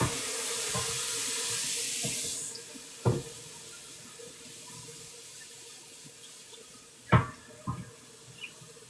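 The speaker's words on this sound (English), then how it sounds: "I just wash this board for a minute." Tap water runs steadily into a sink while a cutting board is washed, a constant hiss that stops after a couple of seconds, followed by quiet scattered knocks and clunks of the board being handled.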